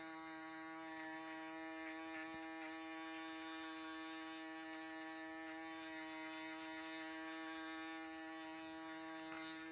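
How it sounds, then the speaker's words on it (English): A foil shaver buzzes steadily and close during an anime-style haircut, a constant electric hum with faint clicking textures, running alone without talk for about ten seconds. "From there, foil shaver."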